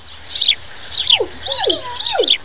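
A woman imitates a swallow's chirping with her voice, producing four quick, loud, close-up tweeting calls in a steady rhythm.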